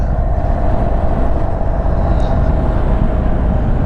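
A 2022 Indian Chief Darkhorse motorcycle engine drones steadily and loud, with broadband rumble and wind noise, as the rider shifts into third gear at speed; no distinct gear-change break stands out.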